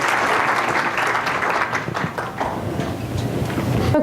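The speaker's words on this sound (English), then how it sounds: "Let's give them a round of applause" A lively conference audience applauds a panel in a room, the clapping dense and continuous throughout, with faint background noise mixed in.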